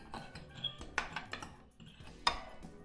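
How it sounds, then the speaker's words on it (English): A whisk clinks and scrapes against a shallow dish, stirring a marinade of lemon juice and garlic with light, irregular taps and a couple of sharper knocks, close and without talk. "Now let's just mix that in with a whisk."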